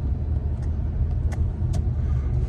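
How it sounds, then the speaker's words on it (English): Steady low rumble of a car driving through heavy Houston traffic, continuous engine and road noise heard from inside the vehicle, with faint brief passing sounds above it. "so I thought I'd make one while I'm driving in this lovely traffic here in Houston."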